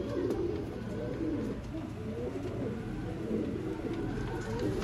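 Sialkoti pigeons coo in low, rolling calls that repeat and overlap close by, steady throughout under faint background noise.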